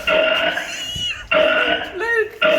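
A person burps loudly and close up in a series of long, sustained, tonal belches, three or four in quick succession separated by short gaps.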